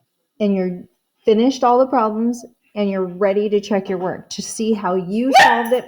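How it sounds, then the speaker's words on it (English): A pet dog barks and yips repeatedly at close range, sharp bursts that overlap with a teacher talking through a lesson recording. "Yes, that was my dog."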